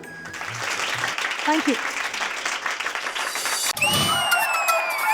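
Studio audience on a TV singing show gives a brief burst of applause for the singers, dense clapping that swells then fades, with a voice speaking over it and a bright musical flourish at the end.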